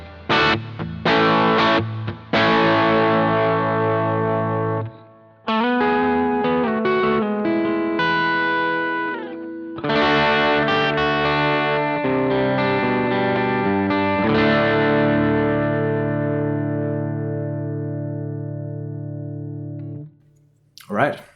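An electric guitar runs through a Boss GT-1000CORE preamp model and a 2x12 cabinet, playing driven chords and phrases in several bursts with short gaps, loud and close with long sustain.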